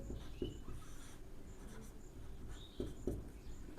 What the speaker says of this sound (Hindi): लिखते हैं समीकरण 1 से।